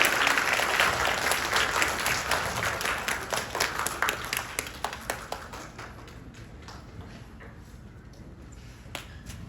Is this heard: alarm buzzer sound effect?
no